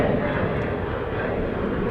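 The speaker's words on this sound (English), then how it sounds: "as soon as this plane gets out of our view" A passenger airplane at Dallas Love Field roars past as a loud, steady broadband rumble of jet engine noise, close and unbroken.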